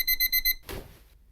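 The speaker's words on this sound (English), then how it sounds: "Sorry, it's my alarm." An alarm goes off in short, loud, evenly spaced electronic beeps, then cuts out, leaving a soft rustle behind it.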